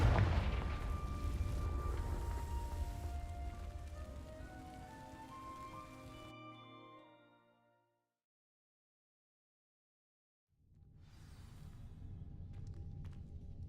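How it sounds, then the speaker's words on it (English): A Confringo fire spell from Hogwarts Legacy ignites dry vines with a loud crackling, rushing burst that swells and fades into silence, followed by a softer returning crackle. "These dry vines are one spark away from becoming kindling."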